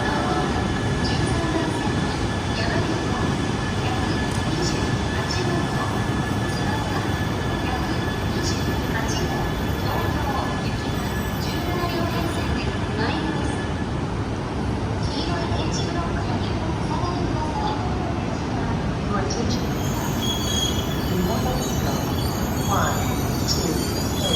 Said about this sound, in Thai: ยามาบิโกของโตโฮกุชินคันเซ็นนะครับ ทำขบวนมาจอดที่สถานีโคริยามะนะครับ